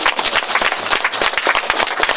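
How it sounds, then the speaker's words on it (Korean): An audience applauds at a political party's new year gathering, a brisk and loud run of individual claps mixing into a rhythmic patter, heard alone without talking. "박수 한번 치가요?"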